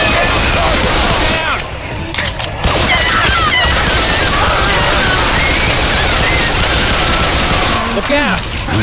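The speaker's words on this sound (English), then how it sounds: "Shoot that zombie in the back." Loud, nearly continuous gunfire in the Left 4 Dead 2 zombie shooter, dense rapid bursts packed close together with game sounds and voices mixed in under the shooting.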